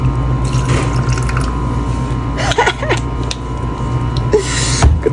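Water being poured into a plate of overly salty food, a soft wet trickle and squishy splashes against steady low background noise, with a few brief clattering bumps.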